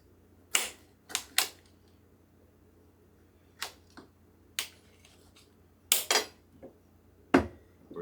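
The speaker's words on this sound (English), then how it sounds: "let's cut our limes in half here" A knife slices through limes on a cutting board in a kitchen, giving about eight sharp, separate chops and clicks spread irregularly over the stretch, close by and fairly quiet against a hushed background.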